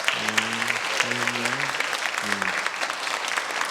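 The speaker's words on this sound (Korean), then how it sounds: "우리 청년회를 위해서 한번 박수 한번 크게 쳐주시기 바랍니다." A church congregation at a Sunday afternoon worship service claps steadily for several seconds, dense and even applause, with a voice briefly sounding over the start.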